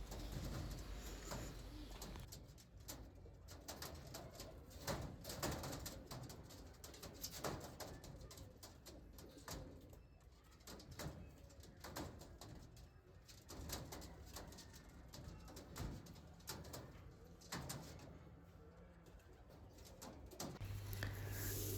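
Andhra pigeons cooing over and over in a loft, the soft rolling calls overlapping at close range, with occasional wing flutters and light rustling among the birds.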